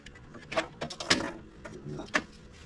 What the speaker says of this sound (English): Here I'm pulling it out of the printer,